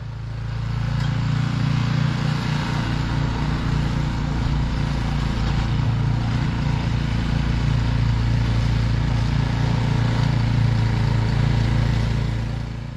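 A John Deere snow blower engine runs steadily while throwing snow, a loud, constant low rumbling drone that holds without a break throughout.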